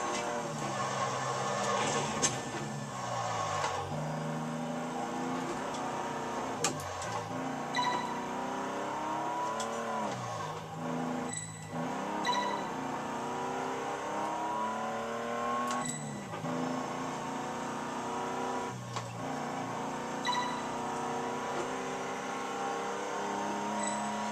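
Car engine in Test Drive Unlimited 2, a classic car on a driving-school course, holding a steady mid-range drone with shifting pitch as it speeds up and eases off, plus a few brief sharper accents, continuous and fairly loud throughout.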